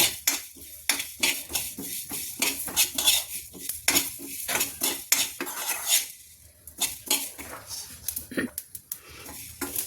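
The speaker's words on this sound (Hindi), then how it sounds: "देखिए मसाले छिटकने लगे, आवाज़ आ रही है।" Spices crackle and spatter while dry-roasting in a hot pan, with metallic clinks and scraping of a utensil stirring in quick bursts.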